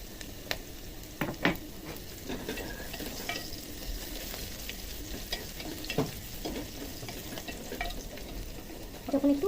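Garlic and chopped ginger fry in hot oil with whole garam masala for a rajma dal, a steady close sizzle broken by several sharp scrapes and clatters of a spatula stirring in the pan.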